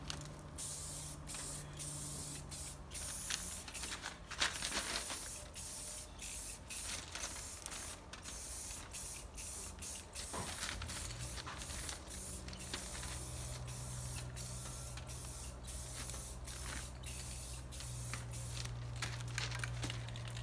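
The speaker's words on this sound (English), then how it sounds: "we're going to be throwing some Rust-Oleum black over top of them." Aerosol can of Rust-Oleum black spray paint being sprayed onto ATV parts in repeated short hissing bursts, close and fairly quiet, with faint handling noises between sprays.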